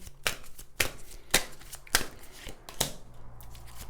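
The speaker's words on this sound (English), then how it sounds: "I'm gonna shuffle these cards" Tarot cards being shuffled in a series of five crisp, riffling bursts at roughly half-second intervals, close and fairly loud with faint low hum between them and no talking.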